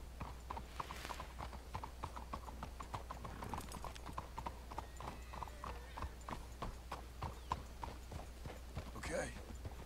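Horse hooves clip-clop steadily through a Red Dead Redemption 2 scene, a regular rhythm of close, distinct hoofbeats over low background noise with a brief whinny-like burst near the end.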